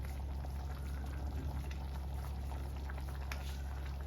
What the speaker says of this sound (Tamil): பபுள் வந்துருச்சு நல்லா கொதிக்குது